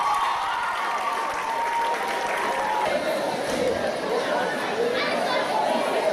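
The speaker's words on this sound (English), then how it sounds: "A round of applause for all our students" A crowd at Rwanda High School applauds its students, with steady clapping heard under loud excited chatter and voices throughout.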